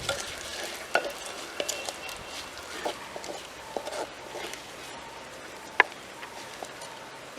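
Dried chillies, curry leaves and chana dal crackle in hot oil for tempering, a light sizzle with a few sharp pops and scraping stirs.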